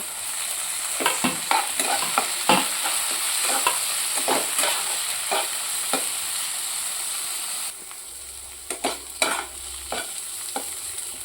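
Potato, onion and leafy greens fry together in a pan, a steady close sizzle broken by repeated sharp scrapes and clatters of a spatula stirring, easing quieter toward the end.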